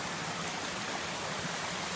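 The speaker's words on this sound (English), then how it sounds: "Me and Lacey found some hidden waterfalls." A hidden waterfall on a backpacking trip, feeding a pool, produces a steady, broadband rushing roar that stays constant and fairly close throughout, with no voices.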